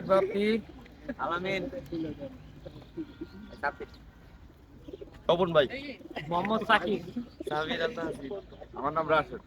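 Pigeons coo at a small pigeon-release tournament, the soft calls coming in bursts under people talking near the microphone.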